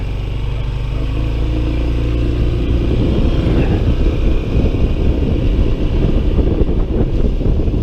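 Honda ADV 150 scooter cruising along a highway in Pangasinan, Philippines, with a steady engine drone and heavy wind rush over the microphone, loud and continuous throughout.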